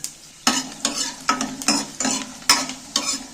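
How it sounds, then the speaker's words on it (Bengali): Ginger pieces fry in hot oil with spices in a wok for a vegetarian spinach and paneer dish, stirred in about seven quick scraping strokes over a steady sizzle, with no talking. "আদার টুকরোগুলো দিয়ে দিচ্ছি"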